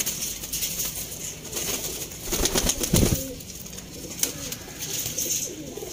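Pigeons for sale in Sialkot cooing steadily nearby, with soft repeated coos, a brief flutter of wings midway and faint background noise.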